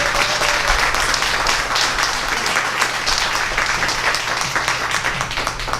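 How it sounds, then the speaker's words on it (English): An audience at a town hall meeting applauds the mayor as he steps up for his opening remarks, loud, dense, sustained clapping that fills the room and tapers slightly toward the end. "let's give him a round of applause for an opening remark"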